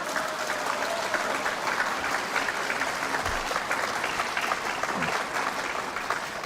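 Audience applause fills a lecture hall, steady and dense clapping from many hands throughout, fairly loud and unbroken, with no voice over it.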